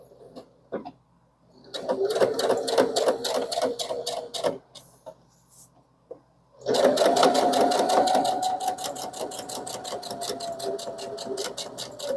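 A sewing machine stitches a rolled hem on the edge of a handmade bag at roughly 0.2 stitch length, in two steady whirring runs separated by a short pause, the second run longer and louder.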